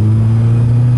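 Volkswagen Pampa with its AP engine revving, a loud, close, steady low drone with strong engine harmonics and no talking.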